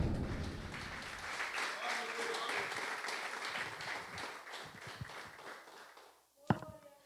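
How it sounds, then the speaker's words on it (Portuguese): A church congregation claps in a sustained burst that gradually thins out, with scattered voices under the clapping and a sharp knock near the end. "Aplauda ao Senhor nessa noite."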